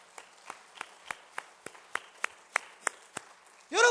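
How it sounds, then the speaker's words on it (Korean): Slow, sparse handclaps from a church congregation during a Sunday afternoon service, about a dozen evenly spaced claps in a quiet room, ending as a voice begins. "박수 한번 하십시다."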